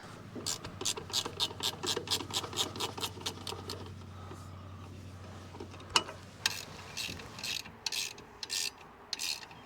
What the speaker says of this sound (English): I'm gonna go ahead and bolt this on